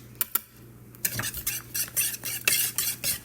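A spoon scrapes and clinks around a bowl while mixing black pepper, red pepper and spice blend for a chicken burger, in quick, rhythmic strokes after a couple of light taps, close and fairly quiet.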